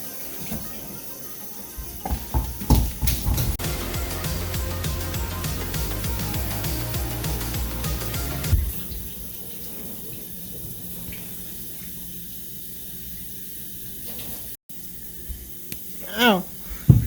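Hot water runs from a kitchen tap over frozen bacon, a steady hiss of splashing water in a sink with clattering handling noises, then quieter running water near the end.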